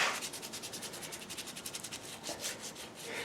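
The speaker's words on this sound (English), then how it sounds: "So I went over the surface very, very lightly with some steel wool, with some fine sandpaper." Fine sandpaper lightly rubbed back and forth over a painted cast-iron Fay & Scott lathe surface, a close rhythmic scratchy sanding of about a dozen quick strokes, alone and fairly loud.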